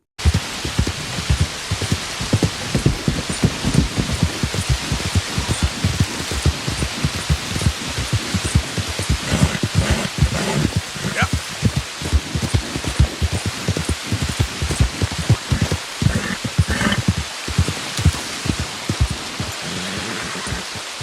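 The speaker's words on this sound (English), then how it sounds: "And it's a rainy morning in Strawberry." Steady rain falls in the Red Dead video game on a wet morning in the frontier town of Strawberry, a dense, continuous patter of drops with many close, crisp spatters on surfaces and no talking.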